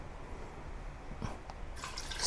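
Water pours into a large stock pot holding mutton bones for Malaysian soup, giving a soft trickle with a few splashy drips that build to a brighter gush at the end.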